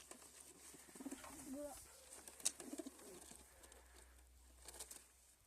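Soft cooing of Adana diver pigeons close by, low burbling calls repeating over a hum of background noise, with a faint voice nearby.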